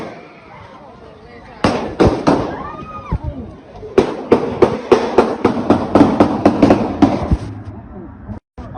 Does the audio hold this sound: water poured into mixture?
no